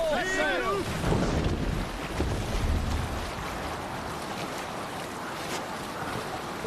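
A longship under sail in Assassin's Creed Valhalla rushes over open water with steady wind and wave wash, a short melodic call rising at the start before the rolling sea noise settles into a constant roar.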